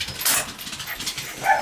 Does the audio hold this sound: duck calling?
no